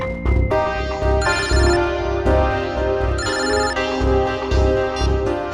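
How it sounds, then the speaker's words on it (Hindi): An electronic ringtone sounds as a phone call is placed, a bright repeating melodic pattern played loudly and steadily over several seconds with no talking. "मैं अभी नम्रता को फोन करता हूँ।"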